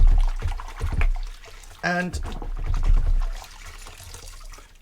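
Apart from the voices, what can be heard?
K&N washable air filter being washed and agitated in water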